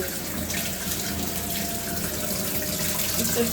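Tap water runs steadily into a sink while ground coriander is washed, a constant close rushing wash with no break and no talk.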